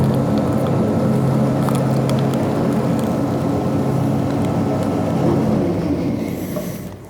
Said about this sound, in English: The grinder also does a great job of blending things together as it runs through